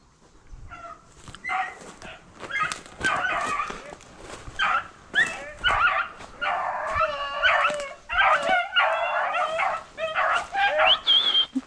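A hunting dog on a rabbit hunt in Missouri bays and yips over and over in eager, broken bursts. Some calls stretch into howls and whines, and the dog sounds fairly close in an open outdoor setting.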